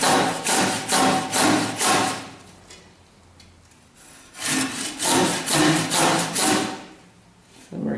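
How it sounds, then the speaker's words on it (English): A notch is cut into a hardwood primitive bow with loud, rhythmic rasping strokes, a run of about six, a short pause, then another steady run. "And we're keeping an eye on the other notch as we're cutting."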